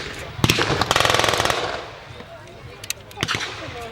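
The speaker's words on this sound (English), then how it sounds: "And there's the other German machine gun, the MG-42." German MG-42 machine gun at a historical reenactment, firing a rapid burst of shots, then a few scattered single reports at mid distance outdoors, with faint voices in the background.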